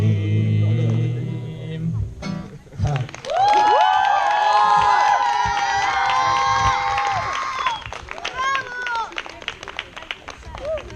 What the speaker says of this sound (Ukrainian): ваши аплодисменты реп-гуртку із великим майбутнім